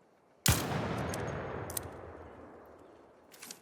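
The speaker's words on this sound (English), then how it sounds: "So we're going to do Anvil shot without any attachments." A single loud shot from the Anvil gun with no attachments in the ARC Raiders video game. It cracks sharply and fades through a long, reverberant tail, with fainter distant sounds afterward.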